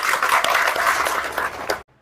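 Applause from trainees at a safety motivational training session, a dense burst of many hands clapping that fills the space, fairly loud and close, then cuts off abruptly near the end.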